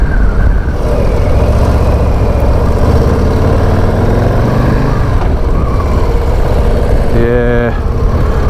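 A Harley-Davidson Low Rider ST motorcycle engine under light throttle on a ride, a loud steady low rumble with wind noise and a brief rising tone near the end.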